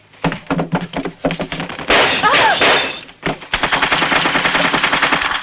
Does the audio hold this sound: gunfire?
yes